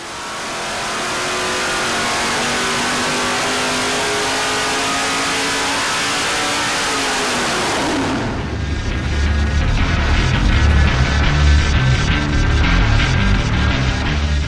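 A fuel-injected Dart 440 small block V8 engine, converted from a carburetor, revs loudly up and holds, then drops into a rough, rumbling idle, heard close with no voices.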